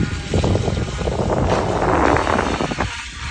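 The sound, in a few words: boat moving on water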